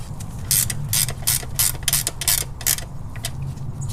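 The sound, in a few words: 12mm wrench tightening a banjo bolt on a Toyota 22RE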